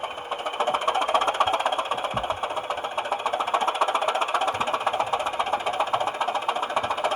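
Model train sound decoder fitted to a Bachmann class 205 Thumper, playing a steady throbbing diesel engine loop with a fast rhythmic pulse, close and continuous with no talking.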